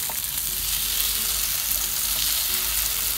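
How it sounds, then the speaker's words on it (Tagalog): Chopped tomato and onion sizzle and crackle in a hot pan for a sweet and sour dried-fish dish, a steady close frying hiss with no talk over it. "hayaan natin din maluto yung tomato along with the onion"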